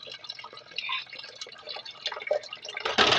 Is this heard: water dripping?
yes